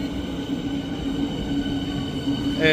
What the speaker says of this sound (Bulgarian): Намерихме си трамвайчето.